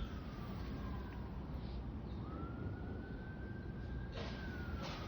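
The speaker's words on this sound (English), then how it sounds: "There goes the sirens." Emergency vehicle sirens wail past outdoors, a steady mid-distance tone sliding in pitch as it passes, over constant low traffic rumble with brief bursts of noise near the end.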